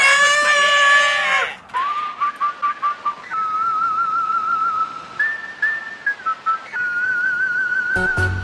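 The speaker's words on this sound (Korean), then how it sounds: "휘파람을" A person whistles a bright melody: a long, wavering opening note, then a quick series of short staccato notes, followed by sustained held tones, ending abruptly.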